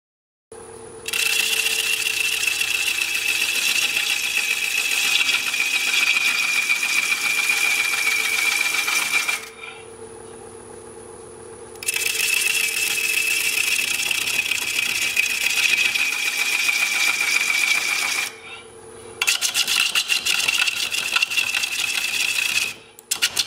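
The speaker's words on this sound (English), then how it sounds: "I'm truing up this surface with a smaller bowl gouge" A smaller bowl gouge cuts a wood bowl on a lathe in bursts, with a loud, steady high scraping hiss over the spinning lathe hum, stopping between passes while the motor drones on.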